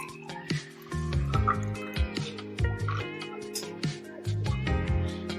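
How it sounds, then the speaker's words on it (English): Boiled herbal drink poured from a pot into a glass, a soft liquid trickle with small drips and splashes heard close up over a steady background. "Then we will pour in a glass."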